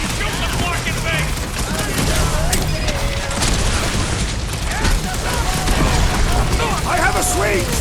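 Gunfire and combat in the PS5 video game Marvel's Guardians of the Galaxy, a dense, continuous mix of shots, impacts and mechanical clatter at steady loudness throughout, with no speech.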